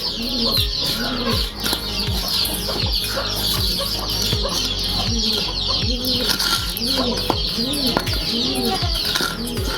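A flock of chickens clucks continuously up close while being fed a mix of water and maize meal, with repeated rhythmic clucks and occasional wing flaps against a steady background hum.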